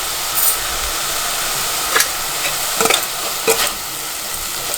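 Turmeric stirred into fried coriander leaves in a pan for Telugu coriander chutney, a soft continuous sizzle broken by a few scraping spatula strokes, close and clear with no talk.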